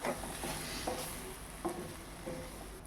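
Cooked rice being stirred and folded into a brinjal masala in a pan, giving soft, irregular scrapes and light clinks of a spoon against metal over a faint sizzle, fairly quiet and with no voices.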